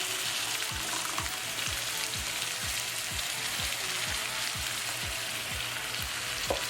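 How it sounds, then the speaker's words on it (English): Steady, dense sizzling of ground beef and sauce frying in a pan, loud and close, with soft repeated scraping of a spatula stirring through it. "cook the ground beef in the frying pan"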